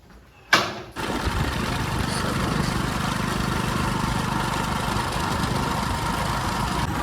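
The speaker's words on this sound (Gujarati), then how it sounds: "બાઇક મારે જ ચલાવી લેવું પડશે." A motorbike engine catches with a sharp burst and then settles into a steady, close, rumbling idle that carries on unchanged, with no talk over it.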